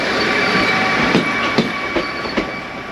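A train rolls past on the tracks near Machu Picchu, a close, steady rumble with a few sharp wheel clacks and clunks over three seconds.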